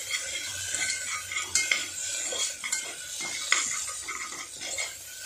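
A spoon scrapes and stirs ingredients roasting in a pan with a little salt and pepper, with repeated metallic clinks and scrapes over a faint, steady sizzle.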